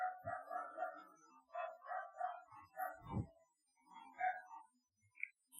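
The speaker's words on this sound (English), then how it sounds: "Always going crazy. And those are not my dogs." Several dogs bark in quick repeated bursts nearby, a steady string of yaps and woofs running through most of the stretch with a brief pause and a softer bark or two near the end.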